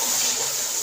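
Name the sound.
water added to frying masala for fish curry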